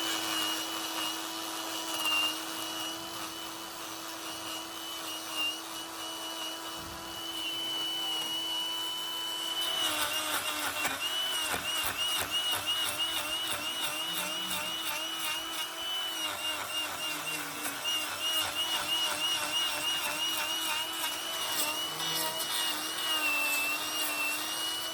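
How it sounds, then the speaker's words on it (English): An angle grinder trims thick, overgrown horn from a cow's badly twisted hoof, a loud steady whine with pitch shifts, rougher and denser grinding in the second half as the disc bites harder. "Now we're going to reduce all of this with the grinder."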